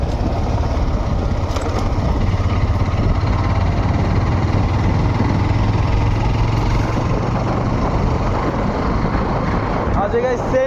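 A motorcycle engine runs steadily with a low droning hum and wind noise while riding along; a voice speaks briefly over it.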